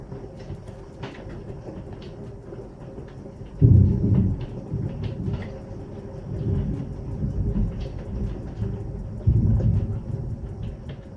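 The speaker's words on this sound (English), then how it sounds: "It's hailing, it's lightning, it's thundering, it's raining." Thunderstorm with hail heard from indoors: deep rolling thunder rumbles swell and fade several times over a steady low background, muffled and fairly distant, with no voices.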